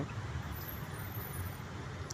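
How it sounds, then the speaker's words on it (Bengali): A scooter rides through floodwater on a waterlogged road in Howrah district, heard as a steady, unbroken wash of engine and road rumble with no clear approach or fade. "স্কুটার যাচ্ছে।"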